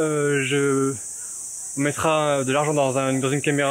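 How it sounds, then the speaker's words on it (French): A constant high-pitched chirring of crickets runs underneath someone speaking close by. "désolé pour le bruit des grillons, ça j'y peux rien"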